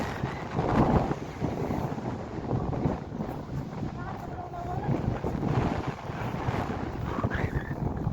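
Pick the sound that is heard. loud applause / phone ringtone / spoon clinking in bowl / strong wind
strong wind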